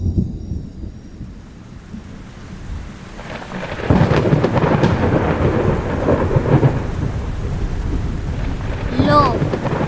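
Cartoon thunderstorm with heavy rain: a steady rumble and downpour that swells louder partway through, with a brief higher whistling sound near the end.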